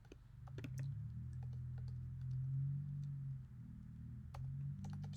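Typing on a computer keyboard, scattered quick clicks and short bursts of keystrokes, quiet and close, over a low steady hum.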